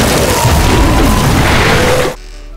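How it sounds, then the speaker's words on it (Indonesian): A big explosion in a kitchen wipes out goblins in a film scene, a loud sustained roaring blast lasting about two seconds before cutting abruptly to near silence. "dengan sekali bakar terjadilah ledakan besar yang meratakan seluruh goblin"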